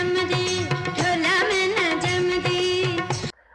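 A short excerpt of a Punjabi film song, starring Sultan Rahi, plays a wavering sung melody over rhythmic instrumental backing, loud and continuous before stopping abruptly.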